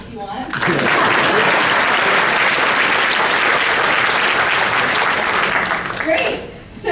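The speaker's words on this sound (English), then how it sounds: "You can clap if you want." A keynote audience at a LEGO fan convention breaks into loud, dense applause that swells quickly, holds steady for several seconds, then fades out. Voices can be heard under the clapping.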